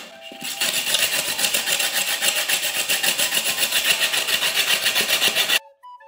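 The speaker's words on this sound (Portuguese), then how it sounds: "Aí com essa lixadeira aqui de lixar pé, ou pode ser até mesmo lixa." A coarse, rhythmic rasping of a foot file scraping back and forth over styrofoam, steady strokes close up, stopping abruptly near the end.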